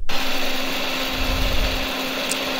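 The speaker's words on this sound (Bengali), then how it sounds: "ব্লেন্ডার করে নিতেছি এখন।" A kitchen blender grinds soaked rice into batter for chitoi pitha, giving off a loud, continuous motor whir with a low rumble that stays steady throughout, alone and without talk.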